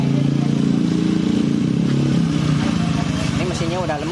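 A Honda Vario 125 scooter engine, freshly rebuilt, idles with a smooth, steady rapid pulsing close by and loud, while someone talks over it.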